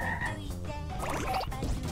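Two frogs croak in Katamari Damacy, a quick run of throaty, buzzing calls that repeat close up and fairly loud over a steady game backdrop.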